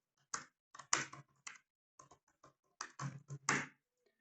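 Rapid bursts of keystrokes on a computer keyboard, close and clear, typing out a short issue description in irregular clusters separated by brief pauses, with no voices.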